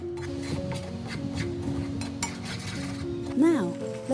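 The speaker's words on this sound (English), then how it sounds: "Keep stirring on low heat." Caramel stirred with baking soda in a pan over low heat, with spoon scrapes and small clinks against the pan in an irregular rhythm, close, under a voice talking, with a sung or hummed note near the end.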